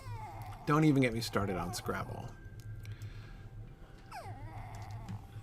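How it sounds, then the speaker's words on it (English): A puppy whines and yelps, with a high squeaky cry near the end, while people talk over an online game session in the foreground. "You might hear the conversation of my puppy over here."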